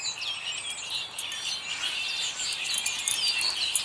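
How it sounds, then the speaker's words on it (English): Small birds, including a pair of doves, calling outdoors on a February day, with continuous busy chirping and twittering close by and steady throughout, no voices. "You hear the birds? Look at them two up there, the two doves. You hear them?"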